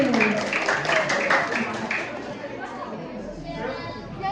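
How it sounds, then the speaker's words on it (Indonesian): Audience at a primary school farewell ceremony clapping in a burst of applause mixed with chatter, strongest at the start and fading to a quieter murmur of voices by the end. "Berikan tepuk tangan yang meriah untuk DJ."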